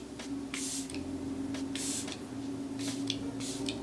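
Ultra-fine facial mist sprayed onto the face as a primer during a skincare routine, several short close hissing bursts in quick succession over a steady background hum.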